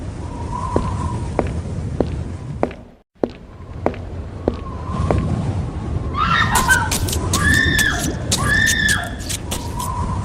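A woman screams in a dramatized scene, several high, shrill, wavering cries coming in a cluster over a rumbling background, following a stretch of sharp taps and footsteps.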